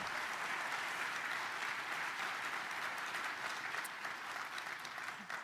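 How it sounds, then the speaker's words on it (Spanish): Steady, sustained applause from an audience at the AMD CES 2023 presentation, a dense clatter of many hands clapping continuously without pause, fairly even in level throughout with no voices rising above it. "La primera mujer en la luna, ¿eh? Aplaudan, ¿eh?"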